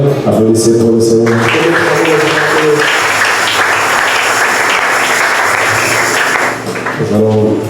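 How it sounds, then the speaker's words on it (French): A church congregation applauds loudly in a sustained wash of clapping that starts after a tonal musical note and dies back as instrumental tones return at the end. "Applaudissez pour le Seigneur."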